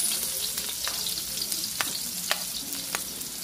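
Garlic and onion sauté in a pan as the base for stir-fried squid. A steady, close sizzle runs throughout, broken by occasional stirring scrapes.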